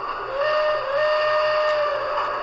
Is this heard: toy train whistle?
yes